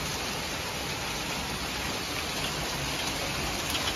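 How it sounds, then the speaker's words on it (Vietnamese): Large hailstones fall in Melbourne as a dense, unbroken rattling hiss, steady and loud throughout, with no voices. "Ngoài này mưa đá nó hột bự dữ vậy."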